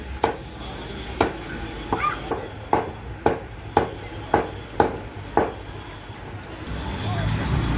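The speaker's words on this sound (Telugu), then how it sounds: "క్లీన్ చేసి మంచిగా చిన్న చిన్న పీసులు కట్ చేస్తున్నాడు" A chicken is cut into small pieces at a chicken shop, giving about ten sharp, evenly spaced chops over steady shop background noise that swells toward the end.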